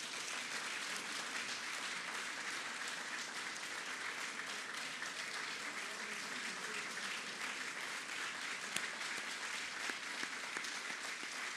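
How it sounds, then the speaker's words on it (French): Crowd applause for the French President during a visit to Abidjan, Côte d'Ivoire, a dense continuous clapping sustained at an even level throughout, with no talk over it. "On peut applaudir le Président."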